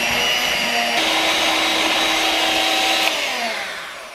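Electric mixer whirring steadily as it beats chocolate icing for brownies, a loud continuous motor drone with a slight pitch shift midway, then slowing and fading at the end.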